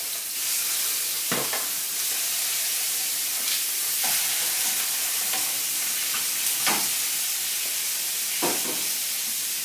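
Salmon and vegetables fry in a pan over lowered heat, giving a steady, close sizzle and hiss throughout, broken by a few brief scraping stirs or turns of the food.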